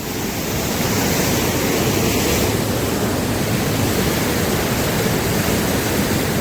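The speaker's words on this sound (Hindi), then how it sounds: "और खूब तेज भाव है इस नदी का इस वक्त।" A fast-flowing, flooded river rushes beneath a bridge in the Kullu area, coming from the Lag Valley, as a loud, constant roar of churning water with no pauses or voices.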